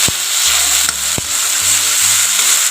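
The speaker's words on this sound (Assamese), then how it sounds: "যিখিনি মই লৈছিলোঁ সেইখিনি মই ধুনীয়াকৈ ভাজি লওঁ" Mustard, garlic and ginger masala paste frying in a pan for a small-fish tomato gravy, a constant close sizzle with a few sharp clicks of a spoon against the pan, no voices.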